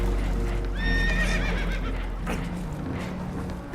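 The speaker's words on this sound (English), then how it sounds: "Horses are spooked, and we're taking on water." Horses whinny and neigh in Red Dead Redemption 2, a rising, quavering call that stands out clearly over a steady low rumble and splashing of water, with hoof clatter and a second shorter cry following.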